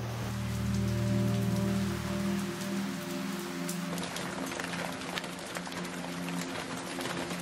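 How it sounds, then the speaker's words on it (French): Heavy rain pours down steadily on restaurant awnings in the Alps, drumming hard on a nearby surface, with a low hum fading out partway through. "Il pleut tellement"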